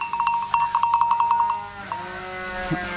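A small bell on a sheep clanks in a quick run of about a dozen metallic strikes, then stops, leaving a faint ringing tail and quiet background.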